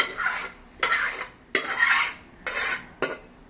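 Scraping stirring strokes of a spoon in a pot as boiled lentils are mixed into bottle gourd sambar, coming in about five rhythmic bursts, close up and moderately loud, with no talking.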